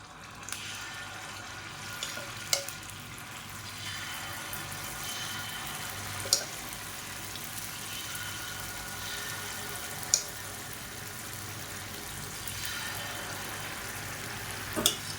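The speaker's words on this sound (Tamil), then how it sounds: "எண்ணெய் நல்லா சூடாயிடுச்சு ஒவ்வொரு புளியிலையும் அப்பமாக ஊற்றிக்கலாம்" Sweet appam batter fries in hot oil in the wells of an appam pan, a steady soft broadband sizzle with a few faint clicks, no voices.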